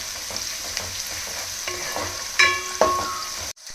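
Onions frying in hot oil in a pan toward golden brown, a steady sizzle with a few louder clattering stirs of a utensil midway, then a sudden cut.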